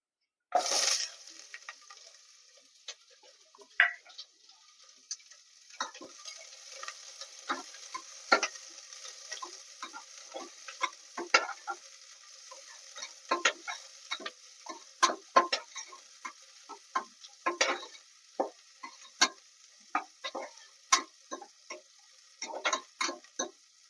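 Two finely chopped onions frying in a pan for bisi bele bath, a faint, quiet sizzle broken by many sharp crackles and pops, close and steady with no talk.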